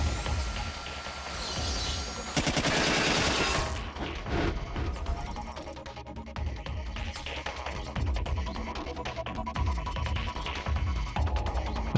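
Mech gunfire in Front Mission 5, a rapid rattling burst of shots with crashing metallic impacts and a low throbbing hum underneath, followed by continued mechanical clatter at moderate loudness without talk.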